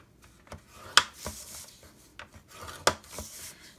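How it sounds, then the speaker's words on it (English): Soft suede cardstock, a 4x4 inch square, is scored at one inch on all four sides, giving faint rubbing strokes and a few sharp scraping clicks in an otherwise quiet room. "We're going to score it at 1 inch on all four sides."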